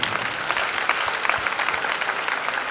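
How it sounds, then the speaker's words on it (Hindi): A church congregation at a healing and baptism service breaks into strong applause, many hands clapping in a dense, continuous patter that fills the room throughout. "इनके लिए एक बार जबरदस्त ताली बजा दीजिए"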